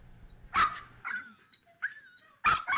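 At an animal shelter, dogs let out a few sharp barks and yips, with brief whimpering whines between them, close and fairly loud against a quiet background.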